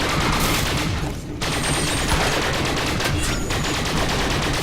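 Sustained automatic fire from deployed gun turrets during an underground firefight in The Bureau: XCOM Declassified, a loud continuous rattle of rapid shots with a short lull near the middle.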